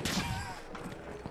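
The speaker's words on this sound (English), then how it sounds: "I'm being sniped." A sniper rifle shot rings out in the World War I shooter Battlefield 1, a sharp loud crack at the very start whose boom fades into a rumbling battlefield background.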